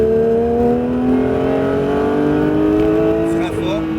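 A Porsche 911 GT3 on the Mirevale race circuit, its engine note climbing steadily in pitch under hard acceleration, loud and close, with a brief shift near the end.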